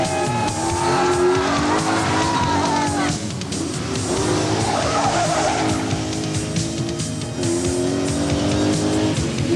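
A big Austin Rover rally car races along wet, narrow roads in Ulster. Its engine roars loud and close and its tires squeal and skid through the corners, with the revs rising and falling throughout.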